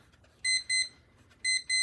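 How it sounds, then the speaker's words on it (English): A timer goes off with two pairs of bright, loud electronic beeps separated by a short pause, heard close against a quiet room. "That's the timer."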